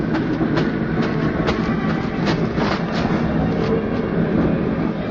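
A steady, loud train rumble at a station fills the space with faint rhythmic clacks running through it, continuous throughout.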